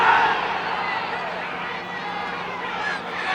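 At a 1994 Syracuse vs. Duke college lacrosse game, a stadium crowd gives a steady, broad roar that swells slightly, with a commentator's voice faintly under it.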